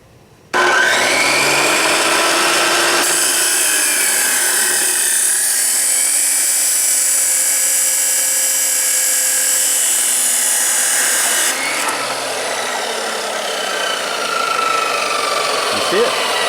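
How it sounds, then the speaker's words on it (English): Metal chop saw with an abrasive blade cutting metal stock: the motor spins up, then a loud, continuous high grinding whine holds for about eight seconds before the cut finishes and the motor winds down. "But that's how you use a chop saw"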